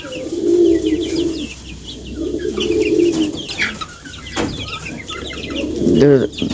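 Low, soft cooing from a dove repeats in slow phrases, with small birds chirping brightly around it and a fluttery call near the end.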